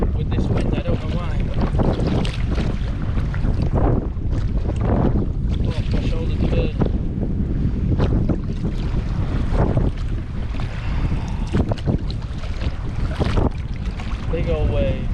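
Strong wind buffets the microphone while a boat is paddled through choppy water during solo camping in heavy weather, with a loud, constant rushing roar and irregular gusty bursts throughout.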